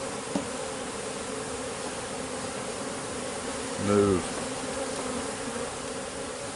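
Honey bees buzz steadily around a hive outdoors, a constant close hum with one louder pass of a bee near the middle; a voice speaks briefly.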